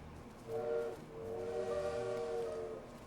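In the video game Little Witch in the Woods, a bird imitates a train whistle with two faint, tonal whistle blasts, a short one followed by a longer sustained one, against a quiet background.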